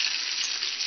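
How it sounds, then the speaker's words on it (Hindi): Tadka of tempering spices sizzling in hot oil for masoor dal, a steady bright crackling hiss heard up close and continuous for its brief length. "हमारा तड़का जो है वो रेडी है दाल पे डालने के लिए"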